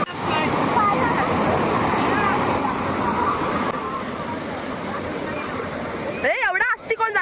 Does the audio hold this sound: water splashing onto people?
yes